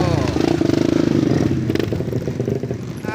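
Motorcycle engine running steadily while riding home at night on the Cipanengah route, loud and close with a pulsing low rumble, rattles and wind noise, and a voice shouting over it.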